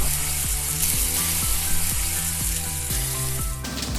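Bacon frying in a hot pan for spaghetti carbonara, a loud, continuous sizzle and crackle with rhythmic mechanical clicks running underneath, close and with no voices.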